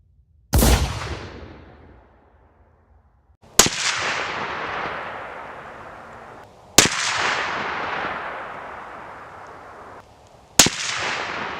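Stevens 334 rifle fired at a 200-yard target outdoors: four loud, sharp shots spaced about three seconds apart, each with a long rolling echo decaying behind it, no voices.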